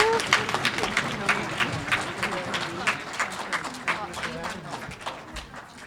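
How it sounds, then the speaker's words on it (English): A conference crowd at the Métis Land: Rights and Scrip Conference claps in a sustained round of applause, with individual claps sharp and close, while scattered voices murmur underneath. "let's give them all a big round of applause for today"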